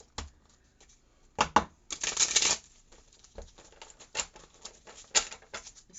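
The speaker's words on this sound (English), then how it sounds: "I'm going to shuffle them up a little bit here." Worn, bent tarot cards shuffle in soft, irregular riffling bursts, close and quiet, with one longer flurry near the start.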